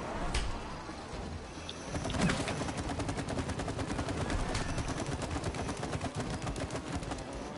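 Sustained rapid gunfire in a video game, a dense stream of close shots with a brief sliding mechanical sound early on, loud throughout and with no voices.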